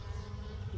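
Bees in a Layens hive make a steady, close, low buzzing drone that lasts the whole brief moment.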